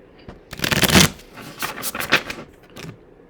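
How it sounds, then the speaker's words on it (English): Oracle cards are shuffled in several quick riffling bursts, close and crisp, with brief pauses between them and no voices. "I think I want to shuffle one more time."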